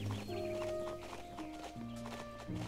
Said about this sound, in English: here is the fast gallop, which I actually really love on this horse